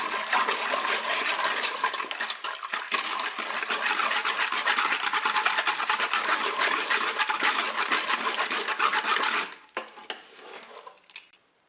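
Milk and sugar get stirred in the bowl of a Cookeo cooker, making a steady close scraping and swishing for about nine seconds before it slows and stops.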